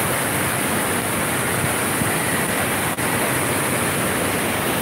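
Rushing water pours down the big slides of the indoor water park at the West Edmonton Mall, a steady, loud, unbroken roar of spray and flow with no voices heard.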